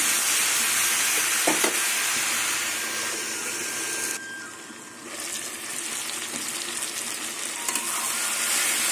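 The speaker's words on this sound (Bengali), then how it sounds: "সবজি ভাজা হয়ে গেছে" Vegetables with green chillies and turmeric frying in a pan for a fish-head and Malabar spinach dish, a steady bright sizzle with stirring scrapes, dipping briefly midway then resuming, with no talk.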